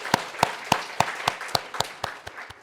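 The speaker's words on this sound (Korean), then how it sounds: "하나님께 영광의 박수를 올려드립니다." A church congregation claps in a steady rhythm of about ten sharp, evenly spaced beats, close and bright with no talking over it.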